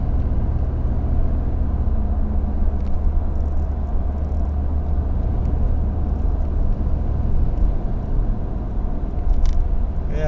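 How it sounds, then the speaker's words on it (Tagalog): Heavy road traffic in Riyadh surrounds a moving car, heard from inside as a continuous, loud low engine and road rumble with a steady whir and no talking. "Napaka-traffic rin."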